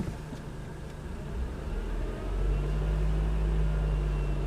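Manual-transmission car engine idling and then revving up to a steady drone, the pitch rising midway as gas is held while pulling away from a stop, fairly close, no talk.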